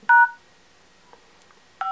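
Keypad tones from a Lenovo A916 smartphone dial a service code: two loud, crisp beeps about a second and a half apart, with faint clicks between and no talk.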